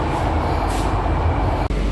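Steady low rumble and rolling hum inside a moving Delhi Metro train, loud and continuous, with a faint hiss and a brief dropout near the end.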